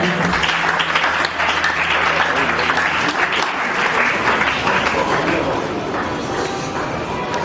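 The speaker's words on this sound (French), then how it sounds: "Il mérite un tonnerre des ovations, les acclamations de là où nous sommes." A concert audience bursts into loud, sustained applause and cheering, a dense roar of clapping and voices that stays strong throughout.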